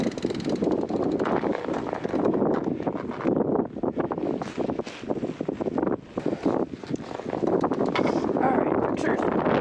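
Blizzard wind blows outdoors around a fat bike, gusting and roaring loudly in uneven surges and buffeting the microphone with heavy rumbling bursts for the whole stretch.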